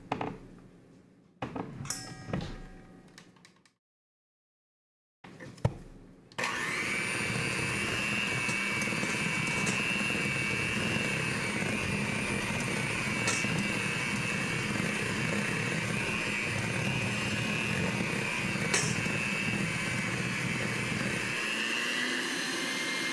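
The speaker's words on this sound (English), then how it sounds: "I have to use the hand mixer." After a few handling knocks and a pause, an electric hand mixer whirs steadily in cupcake batter, a close, continuous high-pitched motor drone lasting many seconds without speech.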